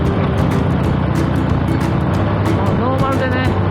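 A car exhaust fitted with a North American muffler with a 16 mm punch-out rumbles steadily and fairly loud, with a voice talking over it.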